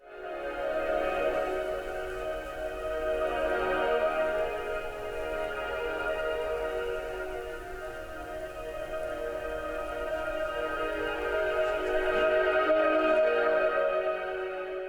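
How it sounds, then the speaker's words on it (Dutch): Music played through the audio input of a FIT 220 light therapy device, a continuous, fairly quiet wash of sustained tones and hazy harmonics with no talking. "Mijn muziek klinkt zo."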